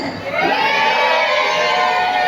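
Wedding guests at a celebration shout together as a crowd, a loud burst of cheering and whooping that rises quickly and holds across the moment.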